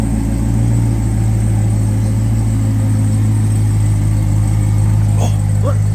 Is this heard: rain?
no